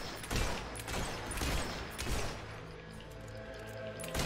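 A rapid flurry of gunshots rattles through a fight in the game Fable III, repeated bangs and thuds piling up in a busy, steady din at moderate volume.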